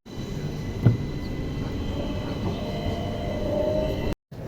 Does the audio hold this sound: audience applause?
no